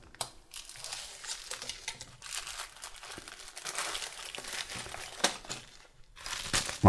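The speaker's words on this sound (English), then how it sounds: "So I'll just cut this open." A parcel package is cut open by hand. Continuous close crinkling and rustling of packaging material with small crunchy snaps runs throughout, fairly quiet and without speech.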